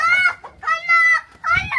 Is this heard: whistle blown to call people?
no